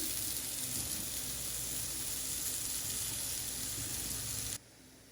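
Sweet potatoes with fine herbs sizzling in a frying pan, a steady bright hiss that holds evenly before cutting off abruptly near the end.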